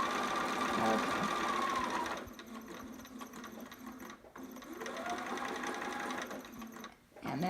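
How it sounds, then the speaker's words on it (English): A sewing machine stitches steadily for several seconds, backstitching over the elastic section of a romper, with a brief pause partway through before the motor whirs up again. The rhythmic mechanical hum is close and continuous. "I backstitched over the elastic part."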